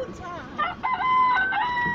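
A toy's tinny electronic rooster crow rings out, a long bright cock-a-doodle-doo, after a moment of soft voices and handling noise as a button is pressed.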